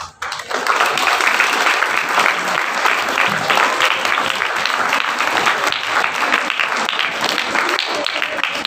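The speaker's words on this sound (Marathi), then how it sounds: "त्यांच्या प्रेरणादायी कामगिरीसाठी टाळ्यांचा मोठा फेरा." A school audience breaks into loud, sustained applause after a Marathi choral recitation by Standard V–VII students, many hands clapping in a thick, even roar that starts abruptly and holds for over eight seconds.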